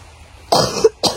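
A hiker on a trail up Mount Papandayan in Garut coughs once sharply and close, then starts a second cough right after a short breath.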